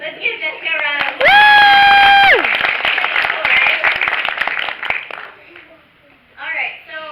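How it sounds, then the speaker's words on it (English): Audience at a Hascon 2017 convention panel breaking into applause and cheering, loud and close, with a sustained electronic tone early on and a speaker's voice resuming at the end. "Let's give Jessica a round of applause"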